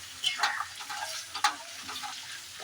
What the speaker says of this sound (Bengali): একটু নাড়াচাড়া করে নিই